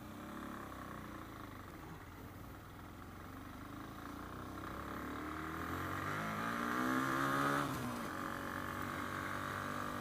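A Hyosung Comet 250 motorcycle with a fault that keeps it from accelerating well labors with a steady engine drone whose revs swell to a peak near the end, then ease off slightly, heard alone without talk.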